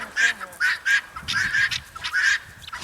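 A flock of guinea fowl calls together outdoors, loud harsh repeated honking cries in quick overlapping bursts, close by and without any talking.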